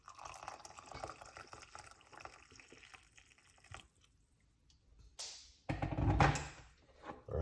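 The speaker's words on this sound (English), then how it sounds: "And then I pour in the hot water." Hot water poured over lemon slices and peel in a cup, a quiet trickle and drip at first, then a louder, fuller splashing pour near the end.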